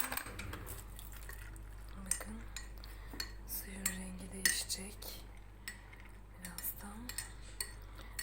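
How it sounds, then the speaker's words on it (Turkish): A spoon stirs dried hibiscus steeping in water, giving light repeated clinks and scrapes against the container, quiet and close with no talking. "Bir kaşık yardımıyla karıştıracağım."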